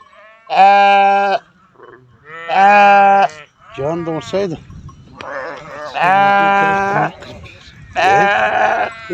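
Sheep at a village farm bleat loudly and close by, five or six long wavering calls with short gaps between them, and someone speaks briefly between the calls.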